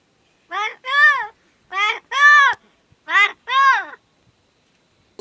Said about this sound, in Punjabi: ਕਾਂ ਦੀ ਗੱਲ ਕਰਨ ਜਾ ਰਹੇ ਹਾਂ ਜੋ ਇਨਸਾਨਾਂ ਦੇ ਵਾਂਗ ਬੋਲਦਾ ਹੈ